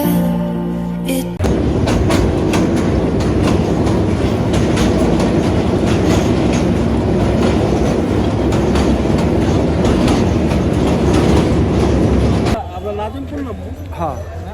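Passenger train running on rails toward Brahmanbaria station in Bangladesh, a steady loud rumble with faint clickety-clack that continues for about eleven seconds before dropping off.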